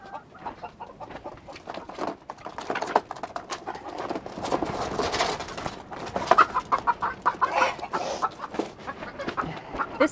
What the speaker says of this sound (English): A little silky hen.